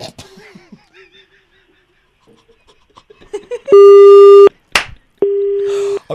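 A phone's busy tone sounds after a call is hung up, two loud steady beeps, each over a second long, following faint phone talk and clicks.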